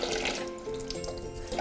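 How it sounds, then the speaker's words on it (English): Cold water runs steadily from a kitchen tap while a tomato sauce is being made, a continuous close splashing rush with no talking. "very often I'll put in a drop of cold water"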